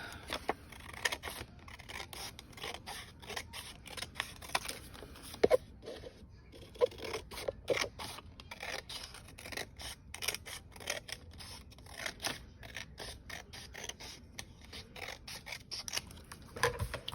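Scissors snip through paper, cutting one-inch strips for straps of a paper backpack craft; a quick series of crisp, close cuts and rustles comes in uneven bursts, with no voices.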